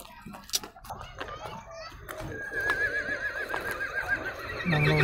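A horse whinnies with a rising, wavering call amid outdoor chatter and children's voices, over a busy background of people and movement.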